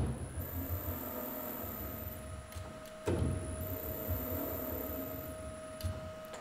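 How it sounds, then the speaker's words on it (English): A stage motor hums steadily at moderate level, with a faint whine and a soft click midway as it reverses, jogging one way and then the other with no talk. "Now we can jog the motor in both directions."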